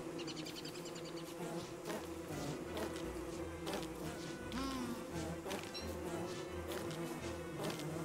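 Bees buzz around hives in the survival game Don't Starve Together, a continuous close insect drone with repeated pulsing low thumps and a few brief higher whooshing game effects layered over it.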